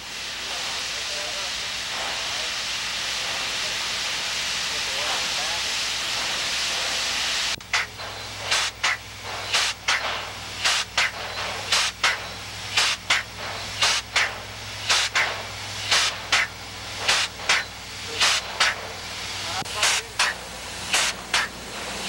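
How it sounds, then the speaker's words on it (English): Steam locomotive Southern 2716 being serviced, with an Alemite grease gun rapping in a steady run of sharp, repeated bursts over a loud, continuous steam hiss close by. "The old familiar sound of the Alamite gun raps away as the steam locomotive is serviced for a return run"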